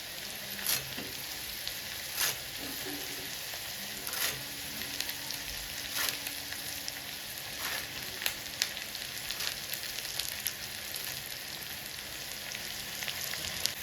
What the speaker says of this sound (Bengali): আমার সবজি মোটামুটি ভাজা হয়ে এসছে